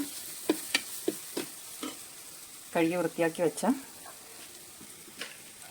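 Mushrooms sautéing in a pan for a Kerala-style roast, with sharp scraping stir strokes over a faint sizzle and someone speaking briefly in the middle.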